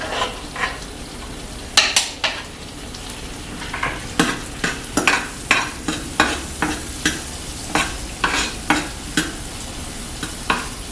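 Onions fry and caramelize in a pan with a close, continuous sizzle, punctuated by rhythmic scraping and clicking of a utensil stirring about every half second.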